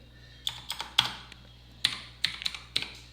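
Typing on a computer keyboard while correcting text in CorelDRAW, a few sparse, close key clicks in small irregular bursts against a quiet background.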